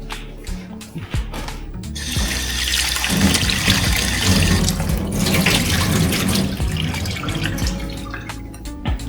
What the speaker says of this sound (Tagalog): Hugasan natin ulit.